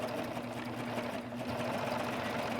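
A serger sewing machine stitches fabric with a steady, rapid mechanical hum and rhythmic needle chatter, moderately quiet and continuous throughout with no pauses.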